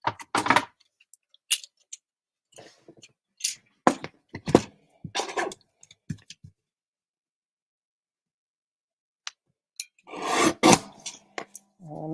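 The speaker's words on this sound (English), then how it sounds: "I'm going to just trim this up a tiny bit because I like it a little bit slimmer" Paper being trimmed for a handmade Valentine card in a quiet craft room: short scattered rasps and snicks of a trimmer blade, a burst of rubbing and sliding paper near the end, with long silent gaps in between.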